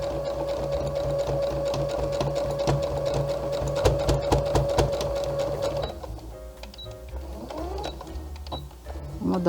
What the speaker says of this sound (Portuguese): abaixamos e continuamos o nosso trabalho